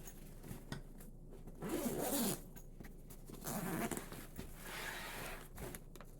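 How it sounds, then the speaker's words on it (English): Zippers on a survival backpack are pulled open in several rasping runs, close and fairly quiet, with soft handling noise between the pulls. "Find the right zippers here."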